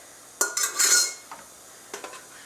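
Clean, dry dishes and cutlery are put away in a home kitchen, with a close burst of clinking and clattering, then a few lighter taps.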